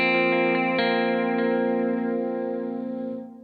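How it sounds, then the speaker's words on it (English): An electric guitar chord rings through a digital delay set to dotted eighths at 75 BPM, with faint repeating echoes under a long, steady sustain that fades at the end, with no talking. "Delay setting 75 BPM on a digital delay, dotted 8."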